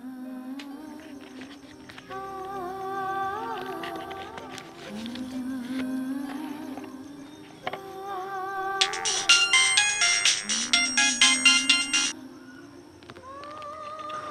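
A mobile phone ringtone plays alone for several seconds, a melodic electronic tune that grows louder and busier toward the end before cutting off.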